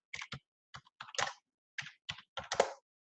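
Quick bursts of typing on a computer keyboard, several short clusters of close, crisp key clicks separated by brief pauses, with no talking.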